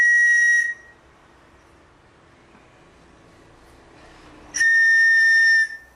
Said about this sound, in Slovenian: Na trstenke igramo tako, da spodnjo ustnico naslonimo ob rob piščali in vanjo pihamo.